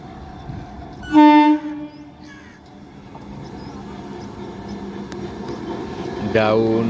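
A down Bandel–Naihati local train at Hooghly Ghat railway station sounds two loud horn blasts, one early and one at the end, over a low rolling rumble of wheels and carriages, with voices in the background.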